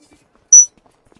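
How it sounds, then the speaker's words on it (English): A single short, high-pitched electronic chirp like a smoke detector's low-battery beep sounds once, brief and isolated in an otherwise quiet room. "I'm hearing that goddamn beep again. Just started. Do you guys hear it? Like a smoke detector?"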